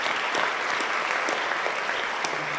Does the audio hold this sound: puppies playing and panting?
no